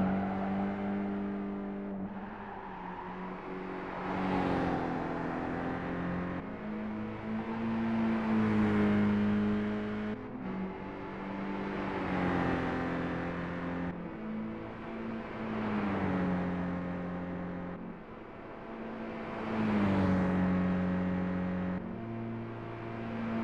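A 2002 Toyota MR-S V Edition with a six-speed manual, driven in Gran Turismo 5, its engine note steadily rising and falling through gear changes over about twenty seconds, continuous and upfront.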